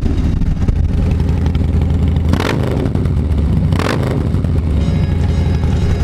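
A Harley-Davidson motorcycle engine runs loud and close, a steady low rumble that swells in two revs partway through.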